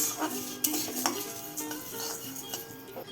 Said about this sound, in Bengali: 2 তেজপাতা দিয়ে ডালটা একটু হালকা করে ভেজে নেব